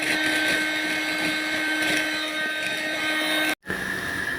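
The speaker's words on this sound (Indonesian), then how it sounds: "step selanjutnya kita siapkan hot gun" A high-wattage hot air gun runs with a steady loud whirring roar and a whine, cuts out briefly, then resumes, close by with no speech.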